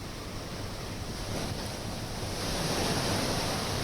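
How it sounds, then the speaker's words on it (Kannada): Rough surf and strong wind on the Mangaluru coast during a heavy rain storm, a continuous broadband roar with wind buffeting the microphone that swells louder toward the end, with no voices. "ಮಂಗಳೂರು ಭಾಗದಲ್ಲಿ ಒಂದ್ ಕಡೆ ಮಳೆ ಆರ್ಭಟ ಆದ್ರೆ ಇನ್ನೊಂದು ಕಡೆಯಿಂದ ಸಮುದ್ರದ ಪ್ರಕ್ಷುಬ್ಧತೆ ಸಾಕಷ್ಟು ಆತಂಕವನ್ನ ನಿರ್ಮಾಣ ಮಾಡ್ತಾ ಇದೆ"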